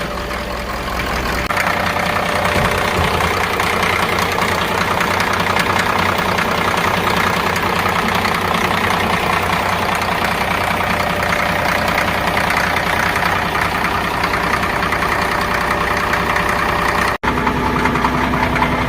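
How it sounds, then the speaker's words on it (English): A 1980 Caterpillar D6D bulldozer's diesel engine idles loud and close right after a jump-started restart, a steady rough rumble with knocking vibration running throughout. "She cranked good after hooking up jumper cables."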